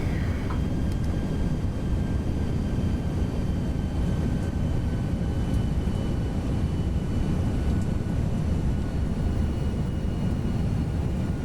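Airliner approaching to land in the X-Plane 11 flight simulator, from Amsterdam toward Cork, its steady broadband engine and airflow roar filling the cabin continuously at an even level, with no talk.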